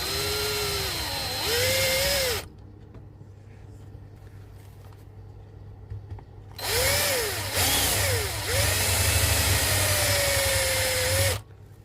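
A power drill whirs in two separate runs on a 1950s Bell 3710A tube amplifier chassis, its pitch rising and falling as it speeds up and slows, with a quieter pause between.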